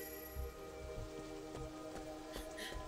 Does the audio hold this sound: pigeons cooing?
no